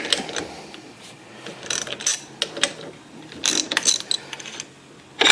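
Socket ratchet clicking on connecting rod bolts while fitting rods to pistons in a 1971 Camaro SS engine, heard as close, irregular bursts of sharp metallic ratcheting with pauses between, no talking.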